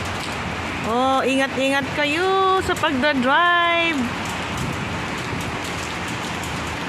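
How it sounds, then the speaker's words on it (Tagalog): Heavy rain pours down on an afternoon in Kuwait, a steady hiss that runs throughout, with someone speaking over it for a few seconds. "Diba lakas ng ulan?"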